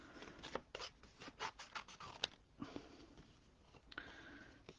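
Scissors rough-cut a paper butterfly shape with quick, close, soft snips and rustling paper, irregular and faint, with no talk.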